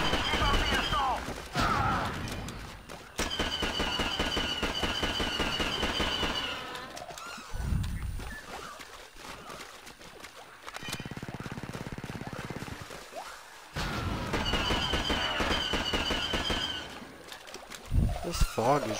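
Blaster fire crackles in bursts during a Star Wars Battlefront 2 (2005) campaign battle, with rapid repeated shots cutting in and out over a busy battle backdrop and someone talking intermittently.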